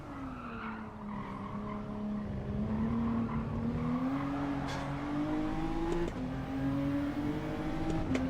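Race car engine in a racing video game time trial, revving and pulling hard under acceleration with a steady rising drone and tire squeal, loud and continuous throughout.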